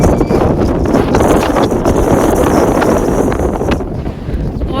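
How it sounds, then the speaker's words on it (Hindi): Strong wind at Pangong Lake in Ladakh roars loudly and steadily across the microphone, a dense, buffeting rush of noise that barely lets up throughout. "बहुत तेज हवा चल रही है"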